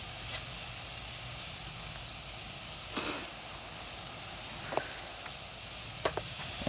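Steak sizzles and hisses steadily on a STOK drum grill, a soft constant frying crackle with a few sharp pops and clicks, no talk.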